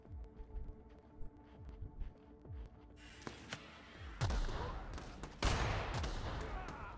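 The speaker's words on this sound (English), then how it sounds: "let me use my sniper again" Sniper rifle gunfire in the video game The Outer Worlds, with sharp shots and a dense, noisy stretch of combat sound building in the second half, fairly faint overall.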